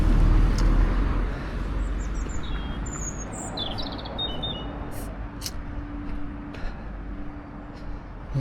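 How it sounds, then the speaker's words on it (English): Small birds chirping and singing in short bright bursts at moderate distance, layered over a steady low rumble of passing road traffic, with no talk. "You can maybe hear the birds."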